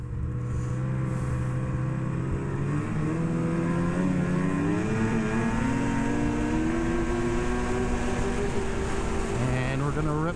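A snowmobile runs along a wide snowy trail, its engine droning steadily and close for the whole stretch, pitch climbing and shifting as it passes by.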